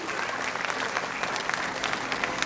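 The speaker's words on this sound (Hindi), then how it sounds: "Please, can we have a huge round of applause for Trivedi ji?" Steady, dense applause from an audience at a tribute event in Ahmedabad honoring the nation's heroes, many hands clapping continuously and evenly with no break.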